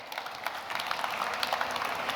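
An audience at an AI innovation pitch competition gives a fairly quiet, scattered round of applause with uneven individual claps after a team's presentation.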